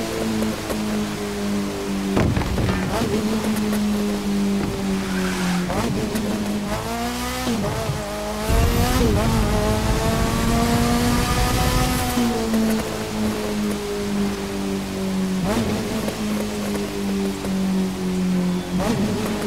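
Mazda RX-8 (SE3P) driven in the racing game The Crew 2, its engine revving and droning steadily with rising and falling pitch as it accelerates and shifts, loud and continuous with occasional tire noise.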